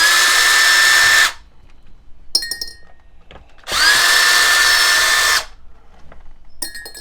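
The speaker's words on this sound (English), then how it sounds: "screw gun available, that might make this a little bit easier to take out these wood screws" A screw gun drives out wood screws from a repair kit panel in two long, loud, steady whirring bursts, each a little over a second long, separated by quieter clinks of screws being handled.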